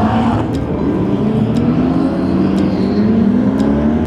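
Loud car engine drone with a steadily rising pitch as an exotic sports car, one of a McLaren and a Lamborghini, accelerates close by, with faint ticking on top.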